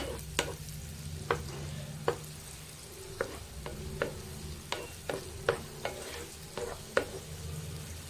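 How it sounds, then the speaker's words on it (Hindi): Onions frying in a pan until light brown, a soft continuous sizzle broken by a dozen sharp spoon scrapes and taps against the pan at uneven intervals, close and without any talk. "तो गाइस देखिए हमारी प्याज हल्की हल्की सी ब्राउन होने लगी है, तो हम इसमें अब थोड़ी एक मिनट तक इसे फ्राई करेंगे"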